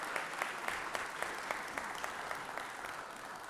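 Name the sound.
applause for firefighters in the Georgia Senate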